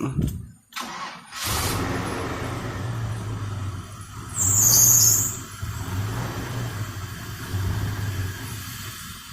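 An engine with a suspected fuel problem is cranked with the key and sputters. A low, uneven rumble rises and falls, with a brief louder burst midway, then settles into a rough, wavering run.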